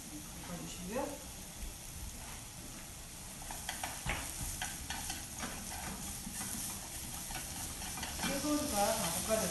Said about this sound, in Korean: 당근도 볶을 때 소금을 살짝 넣어서 볶아주시고요